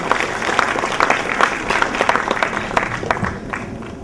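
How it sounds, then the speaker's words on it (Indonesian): Audience applause at a business gathering in Indonesia, a dense, steady clapping from a crowd lasting about four seconds and tapering slightly at the end. "Tepuk tangan untuk Pak Tanadi."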